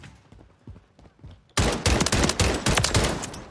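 Gunfire in the video game Modern Warfare 3 during a team gun game match, erupting suddenly after quiet movement into a loud, sustained barrage of rapid overlapping shots.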